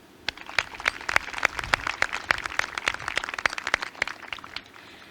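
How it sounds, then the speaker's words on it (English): Audience at a high school graduation ceremony clapping for the parents, a quick run of distinct nearby claps that thins out toward the end. "Let's give a clap to the parents."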